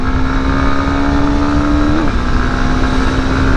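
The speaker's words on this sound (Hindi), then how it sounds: "यहाँ से अगर मैं थ्रॉटल खोलूँ, फुल थ्रॉटल, देखो कितना बढ़िया एक्सीलरेशन है।" A 2024 Honda Hornet or Bajaj Pulsar N250 motorcycle engine revs near 4,500–5,000 RPM as the throttle opens fully. It gives a loud, steady, close drone that rises slightly and then levels out.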